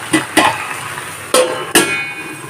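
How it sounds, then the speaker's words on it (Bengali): Okra and potatoes being stirred in a frying pan, with a few sharp utensil scrapes and knocks against the pan over a steady sizzle, close and fairly loud, no talking. "এখন হালকা নাড়াচাড়া করে থালা দিয়ে চাপা দিয়ে দেবো"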